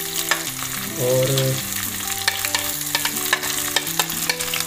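Two to three onions fry in a pan for chicken keema, a busy sizzle with scraping stirs and clinks, accompanied by tonal background music and a brief spoken word.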